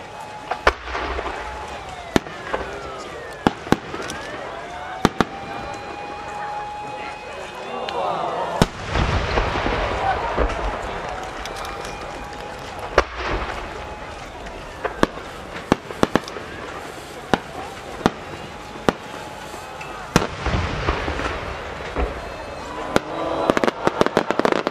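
Shells at the Omagari National Fireworks Competition in Akita burst in sharp, scattered booms and crackles, some with whistling rising tails, echoing over a murmuring crowd through a continuous display, with an announcer speaking.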